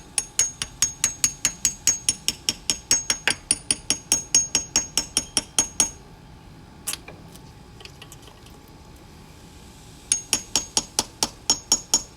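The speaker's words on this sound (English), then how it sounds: "And then get a small hammer. Stab it in." A small hammer tapping a valve seal into place on a car engine in a quick, even rhythm, close and crisp, stopping for a few seconds then resuming with more taps.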